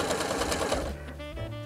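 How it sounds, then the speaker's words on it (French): An electric sewing machine stitches fabric with a short stitch for a fir-tree garland, its fast steady whir close and loud before it slows and hums down to a lower drone. "là, je couds à point quand même petit"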